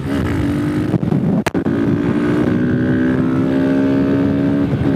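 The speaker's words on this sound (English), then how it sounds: "So rev it up, let's be really hooligan like, and off we go!" A Vespa ET4 scooter with a loud exhaust revs and pulls away in the countryside, a close, steady buzzing drone climbing slowly in pitch, briefly broken by a sharp knock and wind buffeting on the microphone.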